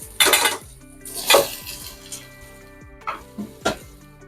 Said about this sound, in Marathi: आता हे जे डांगराच्या फोडी केलेले आहे हे टाकून घेणार आहोत